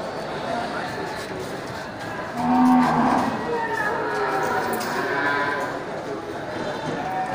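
Cattle, breeding cows and young bulls of various breeds, low at a busy livestock market, with one brief moo rising over a steady crowd murmur and nearby talk.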